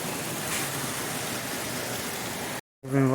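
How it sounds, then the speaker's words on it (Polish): Steady broadband rushing of a stream flowing through a narrow rocky gorge in the Malá Fatra mountains, continuous and close, cutting out briefly near the end before resuming with a voice over it. "Potok szumi"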